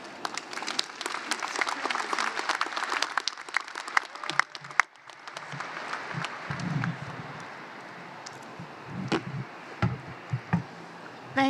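Audience applause at a college commencement ceremony, dense clapping that carries strongly for several seconds, then thins into scattered claps with a few knocks and fades toward the end.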